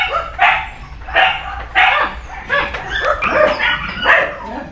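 A litter of breeding puppies barks and yips in a rapid, overlapping series of sharp high calls, close and fairly loud throughout, with no talk.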